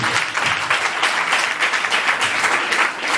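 A church congregation at a children's Christmas service claps in a lively, slightly rhythmic burst, loud and close, with some crowd acclaim mixed into the clapping.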